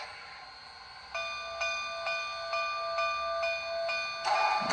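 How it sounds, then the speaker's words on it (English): A model train locomotive's sound decoder starting its dynamo: a steady electronic whine rises in with soft rhythmic pulses, followed by a louder burst at the end, played near the microphone with no talking. "Hear the dynamo kick in."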